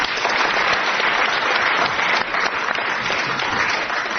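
Studio audience gives a round of applause for a radio quiz winner, a steady dense clapping that holds evenly from start to finish.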